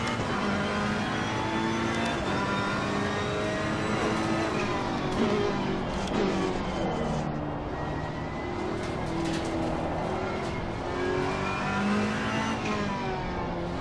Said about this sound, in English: Roll on the throttle.